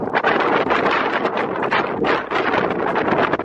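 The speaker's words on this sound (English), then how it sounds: "Oh, it's like hella windy." Strong wind buffets the microphone in loud, gusty bursts at an outdoor spot with ledges, roaring continuously with no voices.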